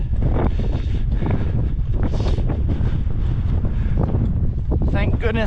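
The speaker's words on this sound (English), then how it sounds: "Thank goodness it's not raining and it's just windy." Strong wind buffeting the microphone on a mountain trail at Saddleback Mountain on the Appalachian Trail, a loud continuous roar with gusts, and a person talking briefly near the end.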